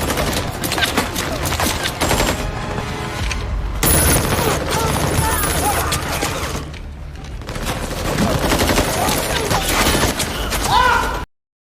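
A gunfire battle in the action film Kali, with dense, rapid volleys of shots and bursts pressed closely together, loud and near, with brief lulls amid other mixed battle noise.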